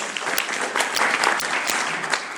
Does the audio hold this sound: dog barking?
no